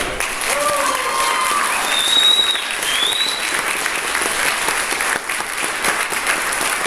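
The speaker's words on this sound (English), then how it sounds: "give a big round of applause to Adrian Sinclair in West Side" Audience applause at a school event, a steady wash of clapping from many hands lasting throughout, fairly loud and even, with a few faint whistles or voices mixed in.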